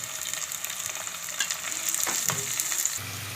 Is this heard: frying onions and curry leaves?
yes